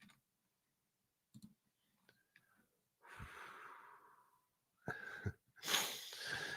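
Close-miked audible breathing, with a few scattered clicks and snorty, wheezy breaths and exhales coming in irregular bursts between stretches of near silence.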